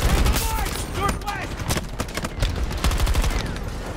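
Gunfire in a shooter video game rattles in dense, rapid bursts that carry on throughout the clip, loud and busy, with a voice talking faintly beneath the shooting.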